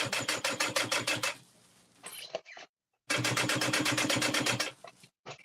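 A sewing machine stitches in two fast, rhythmic bursts, separated by a pause with brief clicks and handling noise, loud and close.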